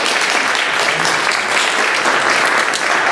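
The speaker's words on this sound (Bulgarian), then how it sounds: "Аплодисменти за тях." Steady audience applause for an improv theatre group at a theatre marathon, a dense, even wash of many hands clapping throughout with no voices over it.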